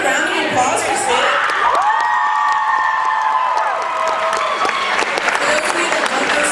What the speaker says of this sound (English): Can we get another round of applause for Sid?